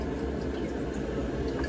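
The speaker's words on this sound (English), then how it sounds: "the water is flowing like it should, but it's not flowing very fast" Water trickles steadily over the evaporator of a Hoshizaki ice machine that has a 7 beep alarm and long harvest times, a continuous close splashing flow with light drips.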